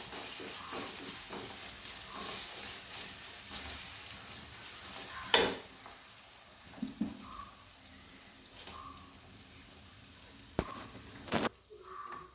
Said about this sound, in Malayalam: ഇനി ഞാനതിലേക്ക് പേസ്റ്റാക്കി വെച്ചിരുന്ന ഇഞ്ചിയും വെളുത്തുള്ളിയും ഇട്ട് കൊടുത്തു.